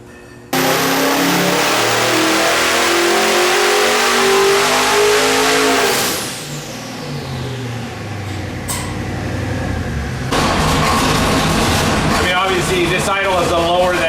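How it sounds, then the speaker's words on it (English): A 1650 HP twin-turbo NRE supercar engine is loud and close, starting with a throaty roar that falls away after about six seconds into a lower, uneven idle near 700 RPM, with people talking over it. "the damn thing's idling at low 700 RPM"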